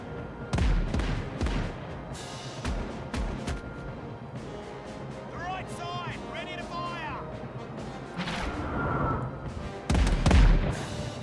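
Cannon fire from a fort shooting at ships in the Caribbean Legend naval game: several heavy booms spaced irregularly, some close and loud, others duller, over background sea ambience with a brief whistling tone in between.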